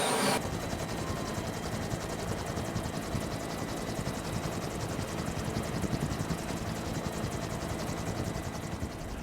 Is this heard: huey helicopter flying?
yes